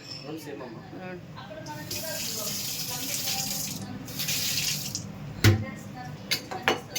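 A household water tap runs steadily into a sink with a continuous splashing hiss, close by, while people talk over it and a few knocks sound near the end.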